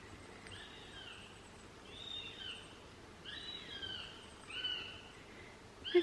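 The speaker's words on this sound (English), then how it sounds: "It sounds like there's monkeys in the forest. I think they're birds." Birds in a forest give repeated whistling calls, overlapping and fairly distant, against a steady rustling background of insects.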